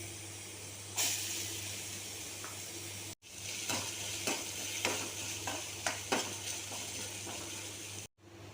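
Potatoes being stirred into masala with salt as they fry in a pan: a soft continuous sizzle with regular scraping stirs and light clacks, broken by two brief cuts to silence.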